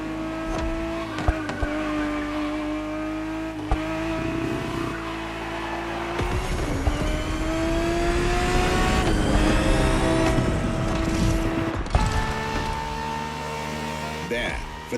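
A Ferrari 365 GTB4 from the 1970s racing in a driving game, its engine droning steadily with rising and falling revs through gear changes, occasional tire squeal, and faint talk underneath.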